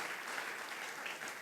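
A church congregation at a GBI Sunday service claps together, a dense, sustained burst of applause from many hands filling a large room.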